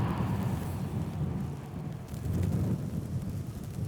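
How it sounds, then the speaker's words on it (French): Strong morning wind gusts in the Alps roar across the microphone in a steady, buffeting rush that dips briefly and then surges back. "Et le matin, les rafales sont impressionnantes."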